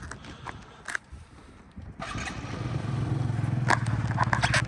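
A Yamaha Jog SA39J fuel-injected scooter, imported from Japan, starts up after a few clicks and handling noises, then idles steadily close by with a buzzing engine note.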